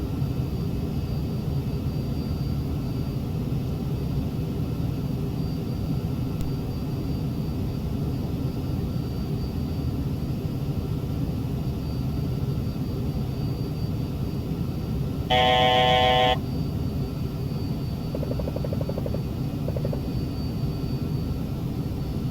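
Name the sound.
Falcon 50 jet thrust reversers on landing, X-Plane 11 video game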